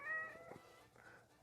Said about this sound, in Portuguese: O gato manhoso.